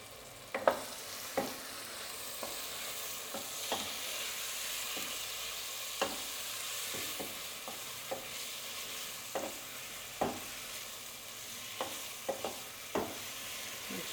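Ramen noodles are stirred through a sizzling pan with lobster, prawns, seasoning and sauce. Sharp utensil scrapes and taps land every second or so over a steady soft frying hiss, and no one speaks.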